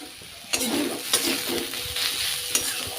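Food sizzles steadily in a hot pan on a home stove, with a spatula stirring and scraping in several sharp strokes over the continuous frying hiss.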